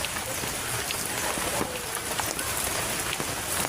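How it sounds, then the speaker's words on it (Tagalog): Steady rain falls on a new year's eve evening around five o'clock, a dense even hiss with scattered drops pattering on nearby surfaces, constant and fairly close throughout. "ayan, ulan na naman."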